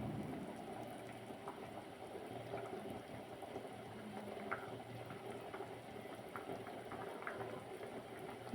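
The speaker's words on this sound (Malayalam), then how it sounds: "നന്നായി തിളച്ച് തൂക്കി വരുന്നുണ്ട്." Fruit payasam bubbles in a pot at a full boil, a quiet, close, steady simmer of small pops and burbles with a low rumbling undertone and no voices.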